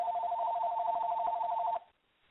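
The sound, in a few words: telephone ringing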